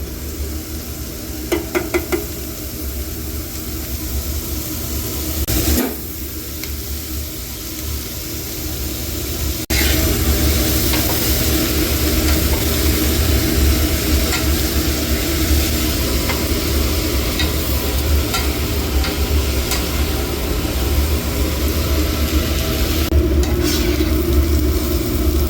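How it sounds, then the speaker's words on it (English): Onions and bacon frying in butter-flavored oil for Southern green beans, a loud continuous sizzle with occasional scrapes and stirring knocks, intensifying partway through as more goes into the pan. "I got some butter flavored oil. Let's throw some onions and bacon down."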